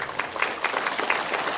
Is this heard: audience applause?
yes